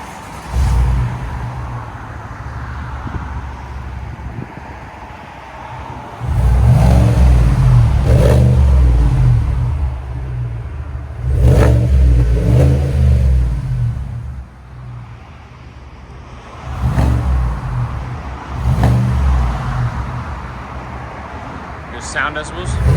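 A 2024 GMC Yukon AT4 with a 5.3L V8 and Borla ProXS exhaust idles with a deep steady rumble, then revs hard in several loud bursts that rise and fall, recorded close with no talking.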